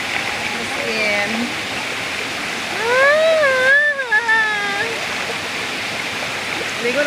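Batlag waterfall in Tanay, Rizal pours a steady, broadband rush of water throughout, with a person's voice briefly rising over it in the middle.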